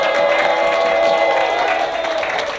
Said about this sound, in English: One more round of applause for all the players.